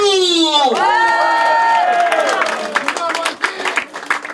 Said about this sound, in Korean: 힘차게 파이팅과 박수!